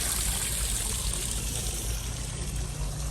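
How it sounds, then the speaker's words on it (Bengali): Water running beneath a frozen, ice-covered drain in the snowy Aru Valley near Pahalgam, Kashmir, heard as a steady, close, broadband rushing trickle that continues without a break. "এর নিচ দিয়ে পানি যাচ্ছে, বাট উপর দিয়ে আইস"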